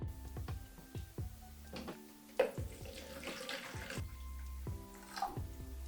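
Water is poured and measured at home for mixing film-developing chemicals, with splashing into a container and clinks or taps of vessels in irregular bursts, close by.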